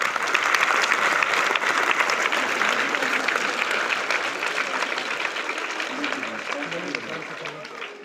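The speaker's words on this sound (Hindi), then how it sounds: "ताली बजाइए।" An audience at a school seminar claps together in dense, loud applause that fades slightly near the end, with voices mixed in underneath.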